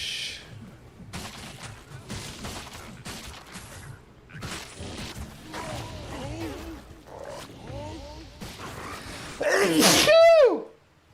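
A person sneezes amid game sounds from a hardcore Diablo-style playthrough, with a loud, sharp burst near the end standing out over a busy background of effects.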